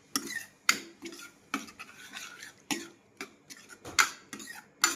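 Spoon scraping and clinking against a pan while tinda (Indian round gourd) curry with salt, amchur and a splash of water is mixed, a series of sharp close taps and scrapes at irregular intervals.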